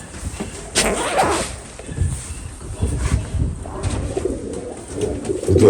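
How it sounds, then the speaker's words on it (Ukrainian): Young pigeons coo in a pigeon loft, soft throaty calls repeating close by, mixed with light rustling and wing movement. "Молоді голуби."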